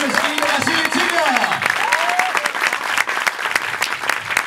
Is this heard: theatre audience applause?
yes